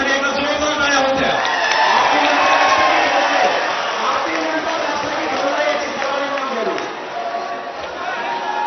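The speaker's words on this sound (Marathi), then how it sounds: "या मीडिया प्रतिनिधींसाठी एकदा जोरदार टाळ्या होत्या" A large crowd at a live hunger-strike gathering in Mumbai claps and cheers loudly with whoops, a dense roar of applause and voices that tapers slightly toward the end.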